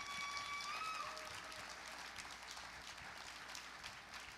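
Faint, diffuse applause from a church congregation during a bilingual Spanish-English sermon, a steady wash of distant clapping carried over a low room hum.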